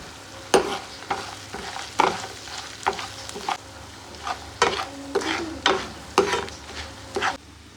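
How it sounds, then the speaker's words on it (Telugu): Sliced onions frying in oil with salt and turmeric, a spoon or spatula stirring them in about a dozen regular scraping strokes over a low, steady sizzle, close and clear with no voices. "ఉల్లిపాయ ముక్కలు ఫ్రై అయిన తర్వాత తగినంత ఉప్పు ఒక టీ స్పూన్ పసుపు వేసుకొని బాగా ఫ్రై చేసుకోవాలి"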